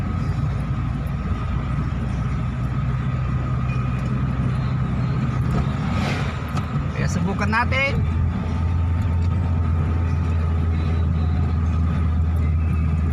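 Toyota Lovelife car engine straining up a steep hill, a steady loud drone with a deeper hum taking over partway, while someone talks over it throughout.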